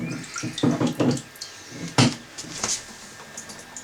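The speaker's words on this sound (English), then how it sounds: "empty that water out from the hose" Water from an eaReef 1200 nature aquarium empties out of a hose into a bucket, in short sloshing gushes and splashes with a few knocks, close by and fairly loud.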